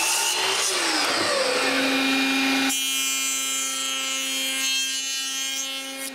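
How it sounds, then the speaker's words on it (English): Steady high whine of a router cutting wood during a test cut for rail tenons in a woodshop, a rough cutting roar that settles into a continuous motor hum, loud and close with no talk. "I move the router and make another cut test."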